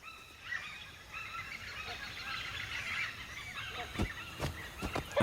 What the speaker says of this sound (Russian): Вот это коричневый птица-носорог.